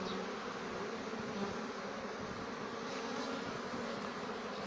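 A dense, steady hum of many honeybees buzzing together at a hive, continuous and close, with no voices.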